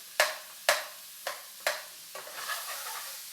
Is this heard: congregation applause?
no